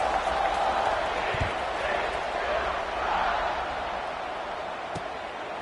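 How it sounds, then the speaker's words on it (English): Football stadium crowd at a TCU game buzzing after a score, a steady broad roar of many voices held at a distance for several seconds, easing slightly toward the end with no single voice standing out. "this crowd is buzzing after that last score"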